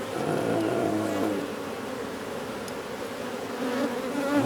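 Honey bees buzz loudly and continuously over an open hive frame during queen-cell inspection, a dense steady drone close to the ear with no speech.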